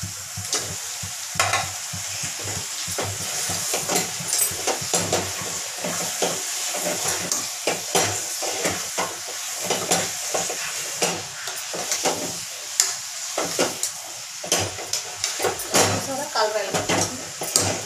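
Washed mutton and mint sizzle and fry in a pot, with frequent scraping stirs and light clatter of a spoon against metal running throughout, close and busy.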